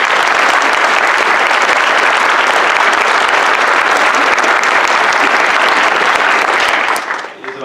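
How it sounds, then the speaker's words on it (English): Loud, sustained applause from a conference audience for Chet Haase after his Android development keynote at DevFestMN 2016, thick continuous clapping that cuts off abruptly near the end. "Let's have another big round of applause for Chet."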